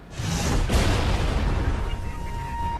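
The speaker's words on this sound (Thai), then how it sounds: "เดี๋ยวเรามาทดสอบยิงดูในเกม CSGO นะครับผมกับเจ้า Mamba Tournament ตัวนี้" Loud, booming gunfire from CSGO fills the whole stretch, a dense blast with a long rolling tail, fired during an accuracy test with a Razer Mamba Tournament Edition gaming mouse.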